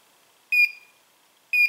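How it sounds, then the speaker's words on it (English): A BlueTipz receiver sounds two short, loud electronic beeps about a second apart, each a clear tone with a quick chirp at its onset, over near silence. "if it tipped back up right now, it's just going to continue to beep."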